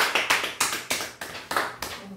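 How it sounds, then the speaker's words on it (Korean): A church congregation claps in thanks during a Sunday worship service: a run of sharp, evenly spaced bursts of applause, each swelling and fading, close and moderately loud. "감사의 박수 합시다."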